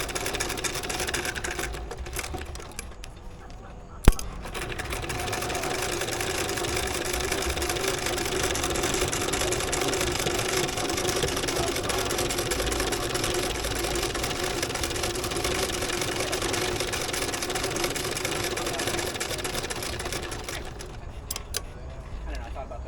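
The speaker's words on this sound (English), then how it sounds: "It is a Singer sewing machine from the 50s" A 1950s Singer sewing machine stitches through rubber inner tube, running as a fast, steady mechanical whir and clatter for most of the span after a sharp click near the start, slowing and stopping near the end.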